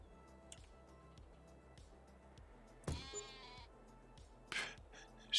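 Sheep bleat from a pen in Farming Simulator 22, two distinct calls standing out over a steady ticking, looping game soundscape.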